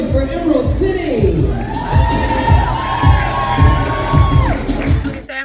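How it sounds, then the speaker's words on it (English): Crowd at a runway show cheering and whooping for a contestant, with loud shouts and rhythmic bursts under an amplified host voice. "Y'all make some noise for Emerald City"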